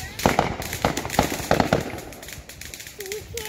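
Fountain fireworks at a Fourth of July display crackle and pop in a quick irregular burst of sharp reports, loud and near, before fading into a steady hiss while a voice speaks faintly toward the end.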